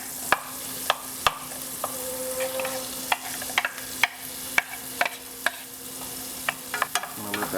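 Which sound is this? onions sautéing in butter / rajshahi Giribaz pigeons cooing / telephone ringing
onions sautéing in butter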